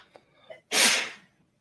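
A single loud, close sneeze in a courtroom, preceded by a short intake of breath, with no speech over it.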